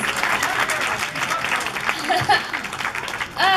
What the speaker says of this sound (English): Round of applause for presents.